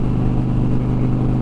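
A Challenger engine with a muffled stock exhaust rumbles at steady idle, producing a loud, deep, even drone with no revving or talk.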